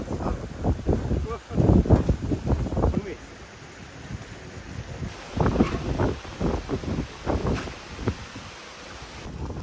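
Gusty wind buffets the microphone in bursts, rising and falling, while a person talks over it outdoors at a fishing spot in Kottayam near power lines.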